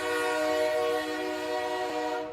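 A train whistle sound effect used as a radio show jingle, sustained harmonic horn tones held loud and steady for about two seconds, alone with no talk.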